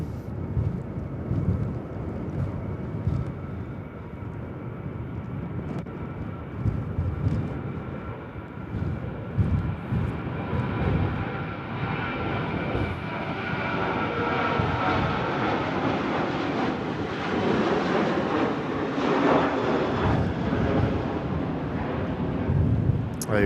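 An airliner arriving at Manchester Airport in stormy, windy weather roars steadily and swells louder toward the end, with gusty wind buffeting underneath and no talking.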